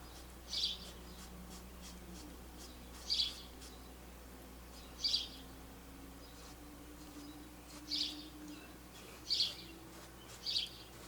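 A bird chirps outdoors in short, bright bursts roughly every two seconds, six calls in all, fairly faint over a low steady background hum, with no talk.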